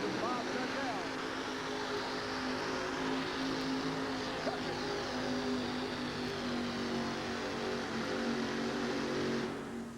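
Steel City Shaker monster truck's engine roars steadily and loudly through a racing pass at a 1988 USHRA event in Albany, a sustained dense drone with crowd noise and commentary voices running beneath.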